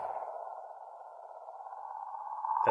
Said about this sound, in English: That's the sound of a comet traveling through space.